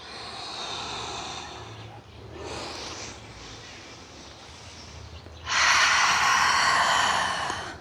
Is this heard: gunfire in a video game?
no